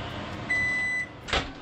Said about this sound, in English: And the microwave for a 1 minute run.